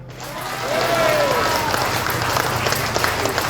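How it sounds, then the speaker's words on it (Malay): A crowd applauds steadily, a dense wash of clapping that holds throughout with a brief vocal sound near the start. "Tepuk tangan."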